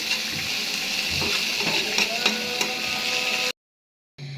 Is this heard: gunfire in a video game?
no